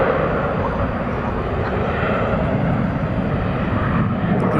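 A Fiji Airways airliner passes at DFW airport at night, a steady, broad engine rumble at moderate loudness with no gaps.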